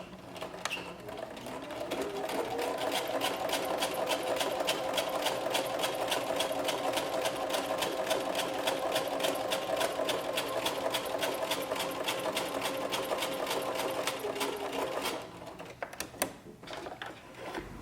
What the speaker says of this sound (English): I'm just going to feed it through, and the twin needle stitch will go right along that folded up raw edge.